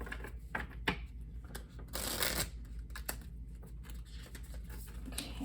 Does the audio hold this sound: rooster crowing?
no